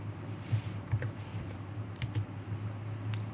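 A computer keyboard and mouse in AutoCAD give a few soft, scattered key taps and clicks over a steady low electrical hum, quiet and close, with no talking.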